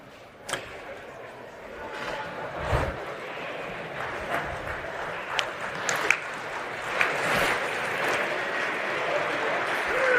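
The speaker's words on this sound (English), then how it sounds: "a round of applause for a Kit Kat" An audience at a live business conference breaks into a round of applause for a Kit Kat, a broad sustained patter of clapping with scattered sharper claps, swelling slightly and holding steady throughout.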